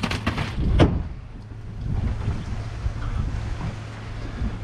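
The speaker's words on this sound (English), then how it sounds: "I think the wind is coming from this direction a little more" Wind gusts buffet the microphone outdoors on a chilly day of fishing, a steady rough rumble with a few sharp knocks at the start.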